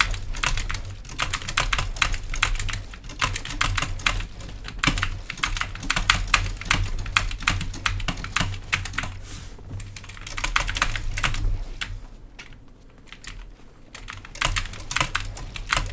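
Rapid, steady clacking of keys typed on a SteelSeries Apex Pro TKL keyboard, close and continuous for the whole stretch, with a low steady hum underneath and a brief lull near the end.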